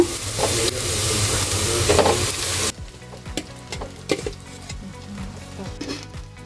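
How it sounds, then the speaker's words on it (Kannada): Cooked rice stirred into fried onions in a hot pan for puliyogare, loud continuous sizzling at first, then quieter crackling with repeated scraping and stirring strokes. "ಈಗ ನಾವು ಕಲಸಿಟ್ಕೊಂಡಿರೋ ಅನ್ನನ ಬೆರೆಸೋಣ."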